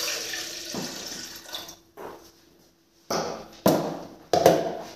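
Water poured from a tap into a metal coffee pot for heating, in several short splashing bursts separated by pauses, with clinks of the pot being handled between pours, fairly close.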